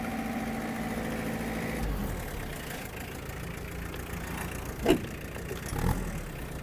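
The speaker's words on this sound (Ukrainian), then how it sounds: "Ось так працює фреза. Добавлю газу." A Yanmar FX-42 mini tractor engine runs steadily at idle with a low, rough drone while driving a rotary tiller. A couple of brief clunks sound partway through.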